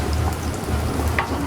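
Spinach and ricotta ravioli fry in a pan, giving a steady close crackling sizzle with small pops.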